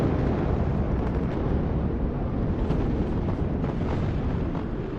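Artillery fire in the real-time strategy game WARNO, heard as a dense, continuous rumbling roar of blasts with no clearly separate impacts, steady and loud throughout.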